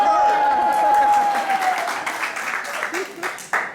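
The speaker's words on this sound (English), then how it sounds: "Was that you clapping at me, Ricky?" Theatre audience at an improvised play clapping, a brief burst of applause that fades under a held tone and a voice speaking, then a few scattered claps near the end.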